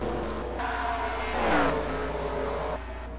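Race cars in NASCAR Racing 2003 resume a Texas Cup race, a steady engine drone with one car's engine rising and swelling past before the sound settles back to a continuous hum.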